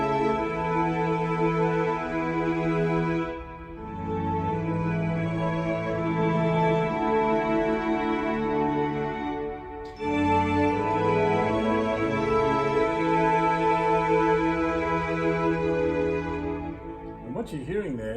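Layered Yamaha MODX8 synthesizer patches play sustained chords and melodic lines, full and continuous with a brief dip in volume around a few seconds in and a pitch-bending flourish at the very end; no voices.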